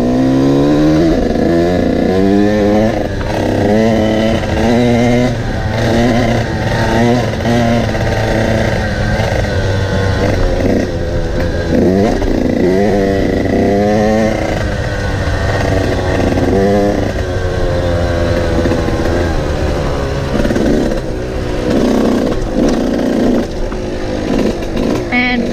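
2018 Husqvarna TC85 dirt bike ridden on a track, its buzzy two-stroke engine loud and close, revving up and down repeatedly throughout.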